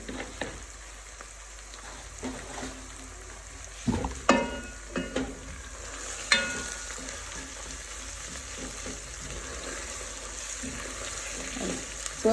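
Curry mixture with curry powder frying in a pan, a steady sizzle with occasional stirring scrapes and clanks close by.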